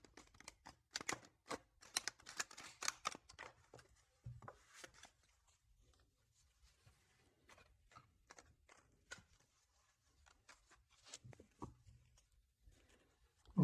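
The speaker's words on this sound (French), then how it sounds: "Je vais faire un petit peu de bruit pour bien mélanger les cartes" Tarot cards being shuffled in quick, irregular bursts of crisp riffles and taps, close up and fairly quiet, with no talking.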